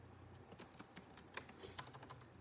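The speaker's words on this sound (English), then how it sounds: "Let me type that out." Someone types on a computer keyboard nearby, quick irregular keystrokes clattering steadily at low volume with no speech over them.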